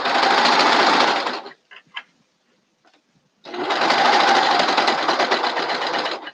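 A sewing machine stitches through thick fabric layers packed with seams, running in two loud, close bursts of rapid mechanical whirring separated by a short pause with a few faint clicks.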